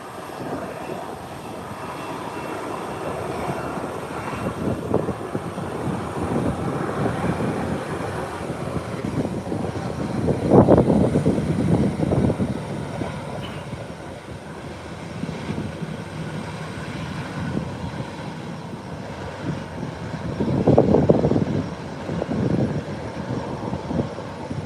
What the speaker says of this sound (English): Whilst American Airlines is rolling in, heading to the parking gate.